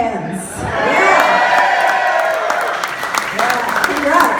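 An audience at a holiday party bursts into loud, close applause with whoops and cheering that swell and hold, with shouted voices mixed in.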